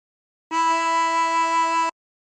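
One sustained blown note on hole 11 of a 24-hole tremolo harmonica holds for about a second and a half, bright and reedy with a gentle wavering tremolo, played close with nothing else around it.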